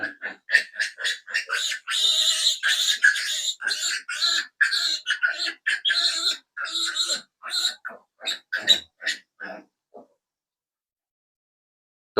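Young piglets grunt and squeal in rapid, repeated bursts, close and lively, thinning out to a few scattered calls before falling silent.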